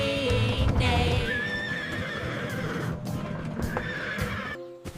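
Horses neigh in a farm setting, one loud whinny with wavering pitch up front followed by further fainter whinnies and animal sounds over a busy, steady background.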